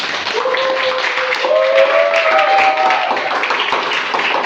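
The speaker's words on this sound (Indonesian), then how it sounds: "Oke, tepuk tangan dulu itu semua" Audience applause during a religious science-and-technology talk, a dense, fairly loud wash of clapping that holds steady for several seconds, with a few sustained voices or tones running through it.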